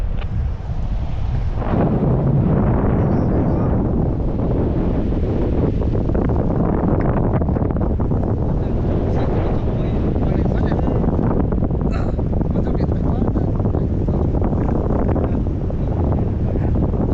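Strong wind buffets the microphone while paragliding high over the hills at Sa Pa, a loud, continuous roar of gusting air with a brief quieter moment at the start.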